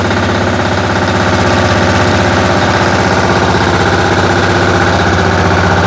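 Weima diesel walk-behind tractor engine running close by, a loud, steady chugging idle with a fast, even knocking rhythm throughout and no voices.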